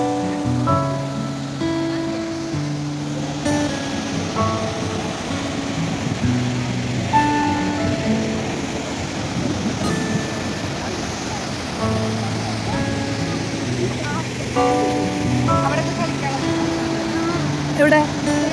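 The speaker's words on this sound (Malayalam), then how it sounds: "കേട്ടോ ഈ വെള്ളം വീഴുന്നത്." Gaganchukki waterfall plunging from a great height, a steady broadband roar of falling water throughout, mixed with music playing over it.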